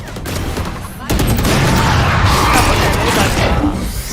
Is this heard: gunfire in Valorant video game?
yes